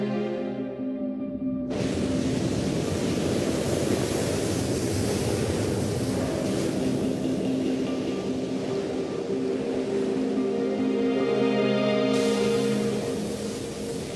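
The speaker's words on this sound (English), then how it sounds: "A massive tsunami, more than 13 meters high, washed over the plant." A massive tsunami over 13 meters high surges across a nuclear power plant, a loud continuous roar of rushing water and churning surf that fills the whole stretch, with no voices.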